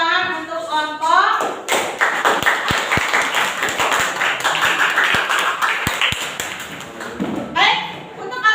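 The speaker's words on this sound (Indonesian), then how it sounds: "boleh tepuk tangan untuk kelompok" Students in a classroom clap for a group, giving sustained mixed applause with scattered sharp individual claps, while a voice speaks over it at the start and end.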